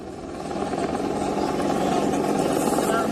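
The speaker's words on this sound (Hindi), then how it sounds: "पंजाब के होशियारपुर में वायुसेना के अपाचे हेलीकॉप्टर की इमरजेंसी लैंडिंग हुई" An Indian Air Force Apache helicopter making an emergency landing in a field in Hoshiarpur, Punjab, after a technical fault, its rotor and engine a steady, loud, broad roar throughout, with voices faintly mixed beneath the noise.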